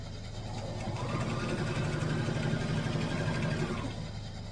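A sewing machine runs in one steady, continuous burst of rapid mechanical whirring and needle chatter while stitching quilt patches made from old clothes together, close and even throughout.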